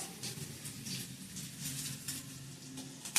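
Mustard seeds and dried red chillies sizzling and popping in hot oil in a pan while tempering for mint chutney, a steady soft crackle with scattered pops close by.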